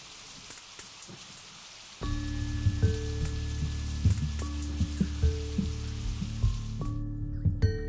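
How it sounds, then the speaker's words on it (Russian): Rain pattering on a surface, a steady dense drizzle of drops that grows louder partway through, with a low hum beneath. "Пока шел дождь"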